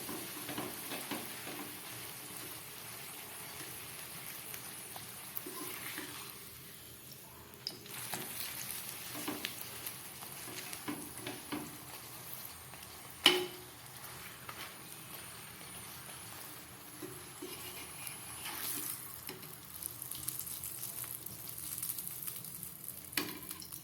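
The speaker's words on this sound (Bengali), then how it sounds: "এইভাবে আমি পরোটা ভেজে নিচ্ছি" Dal-stuffed parathas fry in hot oil in a pan, giving a long, even, moderately quiet sizzle with scattered crackles and one sharper click partway through.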